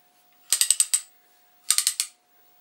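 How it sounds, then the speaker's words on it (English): An old tool's ratchet clicks in two quick close bursts of about four or five sharp metallic ticks each, separated by a short silence, with a faint steady hum underneath. "look at that ratchet arrangement"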